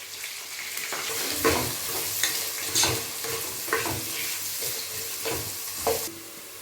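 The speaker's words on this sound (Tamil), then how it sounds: "இதில் நாம் பொடியாக நறுக்கி வச்சிருக்கிற வெங்காயத்தை சேர்த்து நல்லா வதக்கிக்கலாம்" Finely chopped onions sauté in a pan for crab gravy, sizzling steadily as a spoon scrapes and stirs them in repeated strokes, close and clear with no voices.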